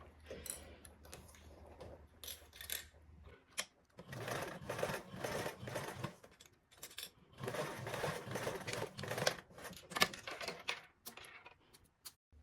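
Sewing machine basting fabric pieces together, its needle running in a fast, steady mechanical chatter through several stretches with brief pauses and small clicks between runs, fairly close and moderately quiet.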